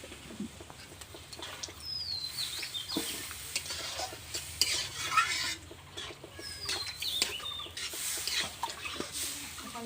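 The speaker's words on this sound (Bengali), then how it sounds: "জল কিন্তু গরম জলে দিচ্ছি" Hot water goes into a sizzling vegetarian mushroom curry in a pan, with a steady hiss of frying, scraping stir strokes, and bursts of bubbling and spitting, close and moderately loud.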